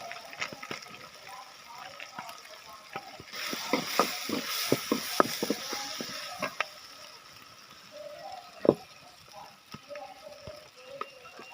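Garlic fries in a pan for broken-egg curry, giving a soft sizzle that swells for a few seconds, with scattered clicks and clinks of the utensil and a voice talking now and then.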